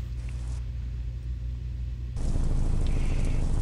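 Car driving in the mobile racing game Crash Metal, a steady synthetic engine rumble and road noise that suddenly swells louder and brighter partway through, with no talk.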